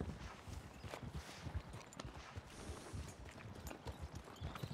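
A horse walks in Red Dead Redemption 2, its hooves clip-clopping in a steady rhythm over faint game ambience, with no talking.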